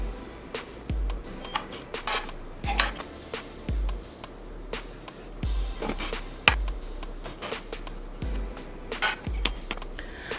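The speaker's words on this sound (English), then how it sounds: "now I'm using this bread knife just to slice the dough into even rolls" Bread knife with a jagged edge cutting through sticky cinnamon roll dough, a series of sharp, close knocks and taps as the blade meets the board, spaced in a steady rhythm with no talking.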